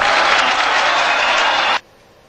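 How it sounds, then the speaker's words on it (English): A video-game crowd in Guitar Hero 2 roars and applauds loudly as a steady wash of cheering, then cuts off abruptly near the end. "The crowd's cheering."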